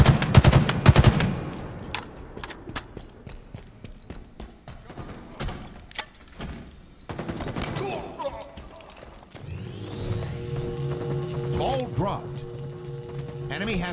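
Gunfire in Halo Infinite multiplayer, bursts of automatic weapon shots and impacts under game announcer callouts and player voices, with a steadier stretch of shooting and mechanical noise toward the end.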